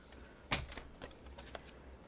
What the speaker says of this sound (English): get your cutter and just cut just a tiny bit more off